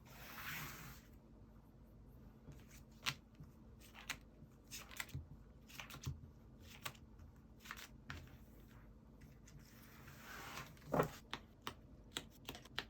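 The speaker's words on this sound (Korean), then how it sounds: "구체적으로 세세하게 카드 한 번 더 펴볼게요" Tarot cards are spread and laid out on a table with soft, scattered taps, slides and clicks, close but very quiet, with no one speaking.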